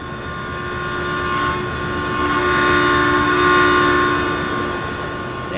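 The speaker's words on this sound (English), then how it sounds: "that's the loudest train I've ever heard" An empty train rumbles loudly past the player in Farming Simulator 19, a sustained roar swelling and fading over several seconds with steady tonal whine and horn-like overtones.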